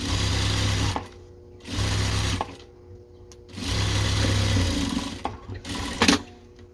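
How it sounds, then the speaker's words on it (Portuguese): Sewing machine topstitching the lining of a double patchwork pencil case, running in three sustained bursts with short pauses between them and a few clicks, close and fairly loud, with no talking. "Agora tem que fazer o pesponto nessa partezinha ali."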